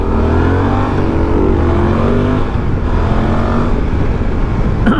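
A Suzuki V-Strom 800 DE adventure motorcycle engine running hard on a test ride, a loud continuous drone with shifting engine tones and wind, no voices.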